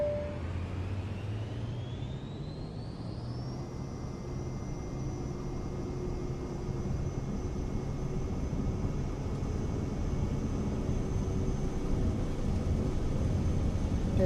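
Airliner takeoff roll in a flight simulator game: steady engine roar building as thrust comes up, with a rising whine that levels off, continuous and loud throughout with no talk.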